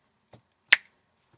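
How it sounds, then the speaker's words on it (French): A single crisp finger snap, loud and near, cracks out during a card magic trick, following a soft, faint tap and leaving quiet behind. "Un claquement de doigts, ça suit."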